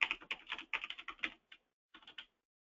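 Password typed on a computer keyboard: a quick burst of close, crisp key clicks, a short pause, then a few more keystrokes before silence, with no talking.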